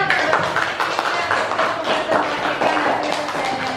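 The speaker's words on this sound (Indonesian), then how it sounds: "Tepuk tangan." A classroom group claps together during a teaching practice lesson, the quick overlapping hand claps running continuously at moderate loudness with some voices in the background.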